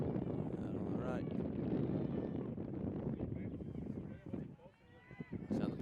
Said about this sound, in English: wind starting to die down a little bit. It's coming in spurts now